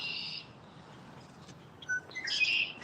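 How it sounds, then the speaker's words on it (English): Birds chirp and tweet faintly in the background of a live football chill-along stream, with a short burst near the start and a busier flurry of calls toward the end, with no talking. "somebody got birds in the background. What is that sound? It sounds like a bird."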